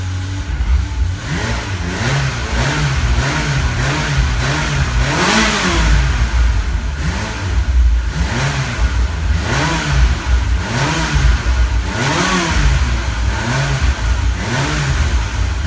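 Engine of a 1997 Ferrari F355 Spider, out of the car and running in neutral, close and loud with a steady rough idle and rhythmic swelling revs over about fifteen seconds.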